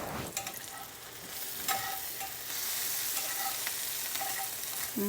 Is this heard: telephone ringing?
no